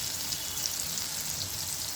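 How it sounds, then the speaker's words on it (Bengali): Pumpkin pieces salted and frying in a pan give a steady, even sizzle with fine crackling pops throughout, close and continuous with no voices. "আমি দেখুন কীরকমভাবে কুমড়োগুলোকে ভাজছি"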